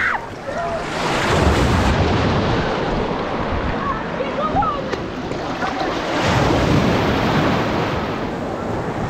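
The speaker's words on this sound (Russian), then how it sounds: "смотрите, волна какая" Black Sea waves surge and wash in a steady roar at Kalipso beach, Lazarevskoye, Sochi, with wind buffeting the microphone, swelling twice as larger breakers roll through.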